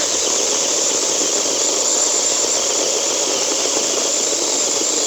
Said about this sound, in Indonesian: Ini saya coba untuk menggergaji kayu yang cukup keras